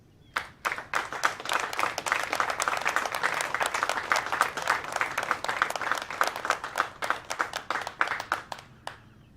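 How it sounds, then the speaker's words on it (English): Audience applause at a military officer graduation ceremony, many hands clapping in a dense, sustained burst from a crowd, steady throughout and then tapering off at the end. "please join me in a round of applause for our award recipients"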